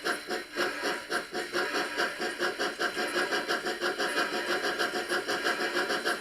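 An N gauge model train locomotive pulling away after the brake is released, a steady rhythmic pulsing motor drone with a regular chuffing beat, close and fairly loud, continuous throughout with no talk.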